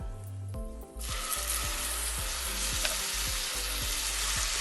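Onion paste frying in a pan for a methi malai paneer dish gives a loud, steady sizzle that jumps up sharply after a brief quieter start, with faint stirring knocks underneath and no talking.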